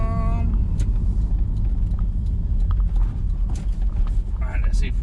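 Toyota MR2 engine fitted with an induction kit built from scrap parts, giving a loud, steady low rumble with intake roar throughout, heard close from inside the car while a voice talks over it.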